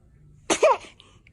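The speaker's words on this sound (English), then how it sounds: "Ay, ay, ay, esos estornudos." A baby lets out a single short, sharp sneeze after a quiet moment, close and clear, followed by a faint trailing breath.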